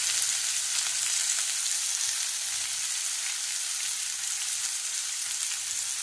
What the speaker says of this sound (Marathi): कांदा भाजत ठेवा